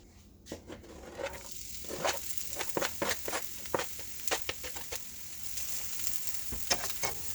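Chopped onions hit about two tablespoons of oil in a pan and start to fry, giving a soft sizzle with scattered crackles and stirring scrapes. Faint, close and uneven, with no talk.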